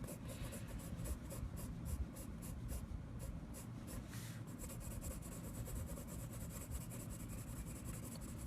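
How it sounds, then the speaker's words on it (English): Prismacolor Premier colored pencils scratch steadily across paper, close up, with a continuous rapid rhythm of short rubbing strokes and no voices. "I'm using Prismacolor Premier colored pencils."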